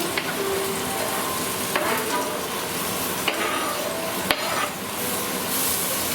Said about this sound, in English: put in my onions, let them sweat down a little bit